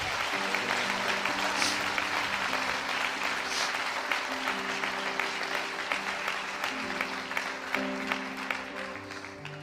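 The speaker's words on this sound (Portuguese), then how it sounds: "Aplauda ao Senhor" A church congregation breaks into sustained applause during a sermon, a broad continuous clapping wash, while a steady sustained tone, likely an organ or keyboard, plays underneath.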